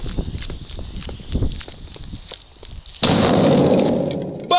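A powerful firecracker detonates inside a suitcase: light rustling and tapping first, then a sudden loud, close blast followed by a sustained noisy roar and crackle that slowly fades.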